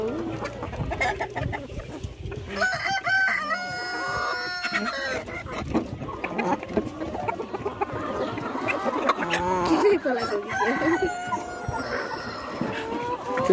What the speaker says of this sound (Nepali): हेर्नुहोस् कुखुराहरू